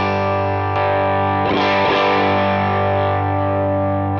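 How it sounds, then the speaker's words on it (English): Electric guitar through a transparent overdrive pedal on its silver side, playing a sustained, slightly gritty chord with a fresh strum partway through, ringing loud and close until it is cut off. "So for me, that overdrive is very transparent"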